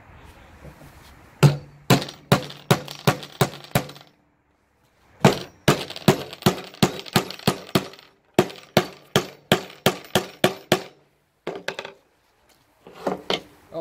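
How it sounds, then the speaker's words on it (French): A hammer drives a nail to fix a wooden batten onto a workbench, heard as loud, close, sharp strikes in rapid bursts of several blows each, separated by short pauses. "je vais prendre un litho que je vais clouer sur un établi"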